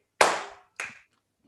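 Two sharp hand claps, the first louder, about half a second apart, each with a short ringing room decay, then silence.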